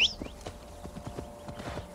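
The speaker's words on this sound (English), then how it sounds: "we're not walking anywhere, we're taking the horse" Horse hooves clip-clopping in the video game Assassin's Creed Valhalla, a steady trotting rhythm of soft thuds with a brief whistle-like tone at the start, moderately quiet and without talk.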